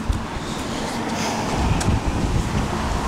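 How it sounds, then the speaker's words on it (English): Steady wind roars and buffets against the microphone, a broad rushing noise throughout with gusty swells, loud and close. "Oh, it's windy."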